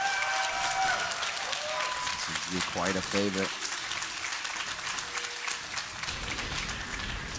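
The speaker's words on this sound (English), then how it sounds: "let me hear you cheer in the audience, cheer at home, cheer whatever you're doing. Make some noise for Fnatic if you want them to win." A Dreamhack League of Legends finals crowd cheers and applauds in a loud hall, a broad roar of clapping and shouts that carries on throughout while an announcer speaks over it briefly.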